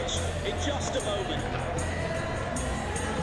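A dense roar of a large stadium crowd fills the air continuously, a steady wash of many voices with no single speaker standing out; football video game crowd at a Premier League match, Manchester City versus Crystal Palace.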